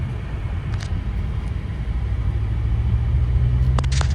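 BMW M5 accelerating from first into second gear: a deep, steady engine rumble from inside the car, growing slightly louder as it pulls away.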